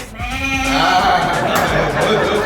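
A person imitates a goat's bleat with a wavering, nasal cry held for a couple of seconds, loud and close.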